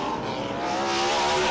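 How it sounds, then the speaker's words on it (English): Ford Mustang V8 race car at the Winton 300 Supercars event, engine screaming loud and steady at high revs with a sustained harmonic whine and no talk over it. "It's just something about a screaming V8."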